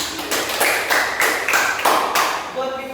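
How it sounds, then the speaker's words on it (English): Class of students clapping for themselves, a few short bursts of scattered hand claps and taps at a steady pace, fairly close and moderate in level, fading near the end. "Alright everyone, give yourself a big clap for doing that activity."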